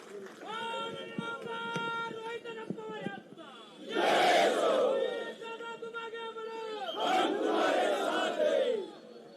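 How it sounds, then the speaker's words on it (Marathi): A large outdoor crowd at a political rally in Tasgaon Kavathe Mahankal erupts in two loud bursts of clapping and cheering, while a voice on an amplified public address system speaks between and over them. "एकदा जोरदार टाळी त्यांच्यासाठी."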